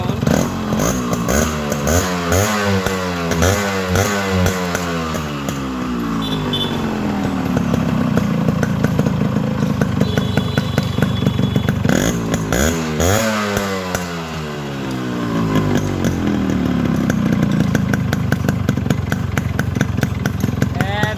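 A Yamaha RX 100 motorcycle engine runs loud and close, revving up and down in repeated rising and falling sweeps, with a slight lull near the middle before climbing again.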